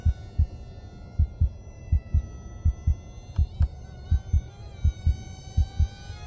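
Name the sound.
BM20 J20 mini RC plane motor at low throttle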